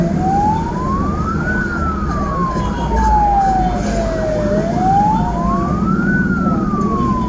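Ambulance siren wailing in slow rising and falling sweeps during a motorcycle escort through traffic, loud and close over a rumbling vehicle engine.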